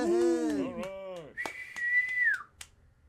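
A voice imitating a rowdy crowd with falling and rising whistles, one long sustained whistle note and a short cheer-like burst, all from a single performer, fairly close and alone.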